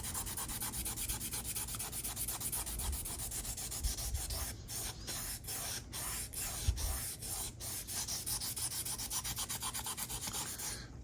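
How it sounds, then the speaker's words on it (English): Abrasive sanding on a 3D printed model car body produces a continuous close-up rasping scratch, with a run of rhythmic back-and-forth strokes through the middle. "All right, so I think I'm done sanding"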